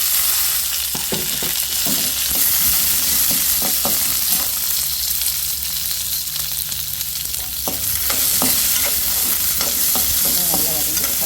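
Green chilies for amla chutney sizzle steadily in a pan, with a constant frying hiss broken by scraping stirs from a spatula, close and moderately loud with no talking.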